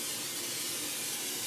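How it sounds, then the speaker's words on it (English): Butter-flavored non-stick cooking spray hisses steadily into a pan for a deep-dish pizza, one continuous close, even spray with no pauses and no talking. "I have butter flavored spray."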